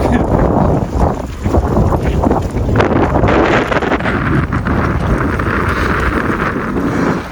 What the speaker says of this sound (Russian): Меня сдувает. Дует.